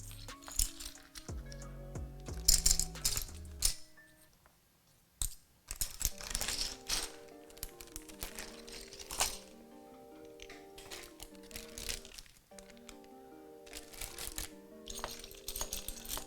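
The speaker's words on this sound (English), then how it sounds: "I think I've been throwing in all of these keycaps into the wrong bag" Loose plastic keyboard keycaps get tossed into a bag, giving irregular bursts of light clicking and clinking with short pauses between handfuls, close and fairly quiet.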